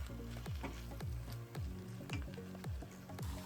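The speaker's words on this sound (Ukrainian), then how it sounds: "Фарш розминаємо лопаткою і смажимо 10 хвилин" Minced pork sizzling in a hot pan, with a rhythmic series of scraping, squishing strokes from a spatula pressing and stirring it.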